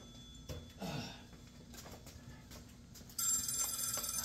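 A telephone rings with a short electronic burst near the end, after a quiet stretch of faint room noise and small handling sounds.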